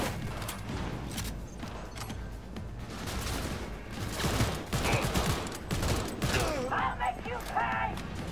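Rapid bursts of gunfire in Cyberpunk 2077 crackle and rattle almost nonstop, layered with mechanical clanks and booms, close and loud, with voices talking over parts of the fire.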